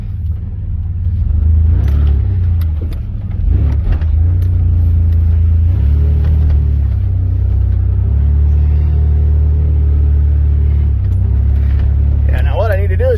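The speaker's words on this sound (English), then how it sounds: "now what I need to do is just drive through here like, oh, that's a rock and a half." A Chevrolet S10 Blazer rumbles steadily along a rocky forest trail, its engine droning close and loud throughout with occasional bumps and surges, while people talk over it.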